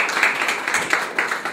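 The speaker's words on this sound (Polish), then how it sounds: "Brawa dla nich." Brief burst of clapping from an audience welcoming guests from Olen at a cartoon exhibition opening, a dense, lively patter of many hands throughout.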